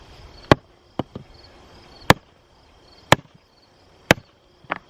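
Sharp, loud impacts of a Halder Simplex splitting maul striking wood, roughly once per second, with several single hits and a few doubled strikes over quiet outdoor background.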